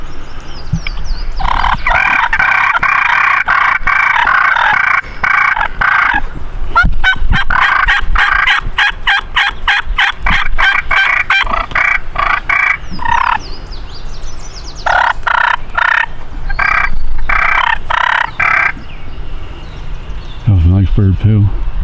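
A wild turkey gobbles repeatedly during a Pennsylvania spring turkey hunt, loud rattling bursts in quick succession across the whole stretch, with other bird calls in the background.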